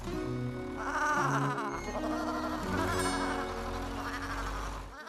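Cartoon sheep in a farm stall bleat and baa in several wavering calls, some overlapping, over background music, with no speech.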